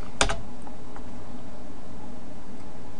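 Keys on a computer keyboard tap briefly while a command is typed into an Ubuntu server, a single sharp click cluster followed by a few faint taps over a steady background hum.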